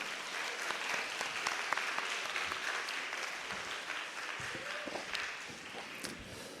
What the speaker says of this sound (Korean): 다 같이 박수 한번 쳐줄까요?